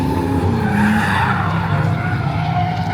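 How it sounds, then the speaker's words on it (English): Drift cars at a Final Bout open session, including a Miata, Soarer, FC RX-7, Chaser and FK8 Type R, squeal their tires in a loud, sustained skid over roaring engines. "So right now, drifting back in session"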